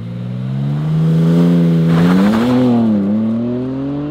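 A BMW M3 xDrive launches from 0 to 60 mph, its engine loud and close with a rising, steady roar that dips briefly at a gearshift before climbing again.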